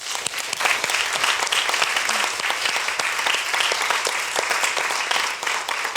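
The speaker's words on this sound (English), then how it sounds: "Let's give them a round of applause one more time." A conference audience gives the keynote speakers and openers a sustained round of applause, dense clapping with sharp individual claps standing out, steady from start to finish.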